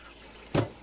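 An RV toilet bowl fills with water in one brief close splashy rush that quickly fades back into quiet room noise.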